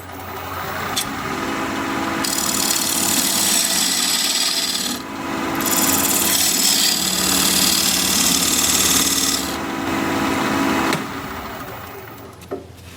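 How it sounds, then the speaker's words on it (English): A wood lathe spins while a diamond point tool squares the sides of a tenon, giving loud scraping and rasping cuts in several sustained bursts separated by brief pauses, with the motor's hum underneath. "I'm going to use this diamond point tool to square up the sides of the tenon"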